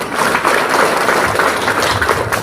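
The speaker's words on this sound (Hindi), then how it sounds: "सब अपने लिए तालियां बजाओ" A church congregation claps for themselves during a sermon, producing a dense, continuous wash of applause that stays loud and even throughout.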